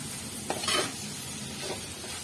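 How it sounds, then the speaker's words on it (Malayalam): Tomatoes for a prawn curry are mashed and stirred in a frying pan, a soft continuous sizzle with a couple of scraping pushes of the spatula, close and alone. "ഈ തക്കാളിയൊക്കെ ഒന്ന് നന്നായിട്ട് ഉടയണം"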